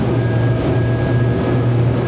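A Parker Sorrento 100 motorboat's engine runs hard with a steady low droning roar and a faint high whine, loud and unbroken throughout, with no talking.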